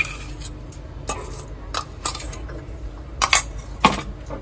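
Chicken rassa with cashew paste is stirred in a pot, and a spoon scrapes and clinks against the metal in several separate knocks. The sharpest clinks come near the end, set against a quiet background.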